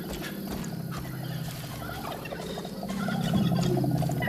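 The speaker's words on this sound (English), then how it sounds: "Turkeys are going crazy." Turkeys in the video game Far Cry 5 gobble in rapid, rattling bursts, several birds overlapping and growing louder toward the end. A light clip-clopping rhythm runs beneath the calls.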